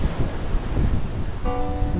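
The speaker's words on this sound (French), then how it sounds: "j'écoute le bruit des vagues" Steady washing roar of sea waves against a shoreline, continuous broadband surge with gusty wind noise throughout, no voices.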